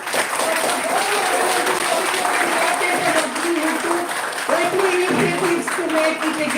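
Audience applause at a Department of Botany birth-anniversary program for Sir J.C. Bose, a steady broad wash of clapping throughout with voices and chatter mixed in underneath.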